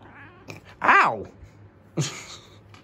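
A house cat meows twice up close, one drawn-out rising and falling cry followed by a shorter, sharper one, with quiet background hum between.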